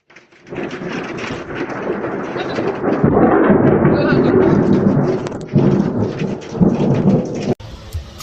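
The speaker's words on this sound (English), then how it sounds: "Sarah's car because, can you see behind me, we have all big storm warnings coming in for all of Ipswich" A loud thunderstorm in Ipswich, with heavy rain pouring steadily while thunder rumbles and swells through the middle. The storm is heard from inside a car, and a voice speaks faintly beneath the storm.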